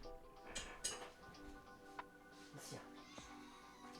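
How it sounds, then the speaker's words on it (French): A house cat meows a few times while wanting to be let outside, faint and indoors under a low hum of background noise, with a light clink partway through. "le chat qui veut sortir évidemment au moment où je démarre le live"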